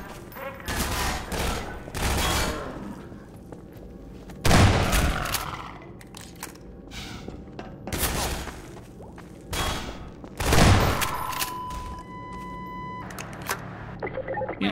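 Bursts of gunfire from the video game Half-Life 2 crack out in scattered clusters, some heavy and close, between quieter ambient stretches of in-game sound.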